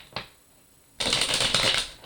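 Tarot cards are shuffled at close range: a single card snap, then a second of near silence, followed by a dense, crisp riffling burst that fades out.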